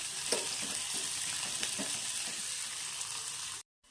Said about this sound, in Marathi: एक मोठा कांदा आहे बारीक कट केलेला कांद्याला छान परतून घ्यायचं आहे